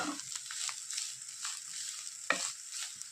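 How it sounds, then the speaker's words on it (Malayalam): A Kerala-style egg, bitter gourd and coconut thoran being stirred in a pan, soft scraping strokes of a spoon over a light steady sizzle, close, with one sharper clink partway through. "നമുക്കൊന്ന് നന്നായിട്ട് ഇളക്കി കൊടുക്കാം"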